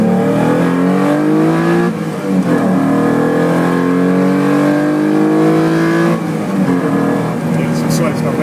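Lancia Stratos lapping at Le Mans Classic, its engine loud and sustained from on board, climbing in pitch then dropping at shifts, with occupants talking over the roar.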